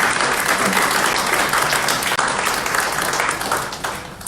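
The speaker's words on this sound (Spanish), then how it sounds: "recibamos al coordinador de la obra que hoy nos congrega con un fuerte aplauso" Audience applause in a university hall welcoming the coordinator of a book being presented in Xalapa, a dense, steady wash of many hands clapping that stays loud throughout, with no talking over it.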